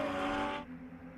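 A TC America race car engine roars loudly past at Virginia, then abruptly drops to a lower, fading drone as it moves away.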